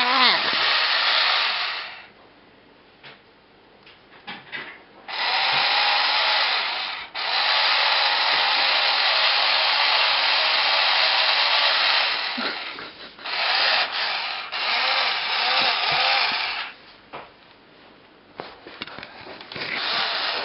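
A toy drill given by grandparents buzzes in long, steady bursts with brief pauses between them, close and fairly loud, while a parent talks to a small child around it.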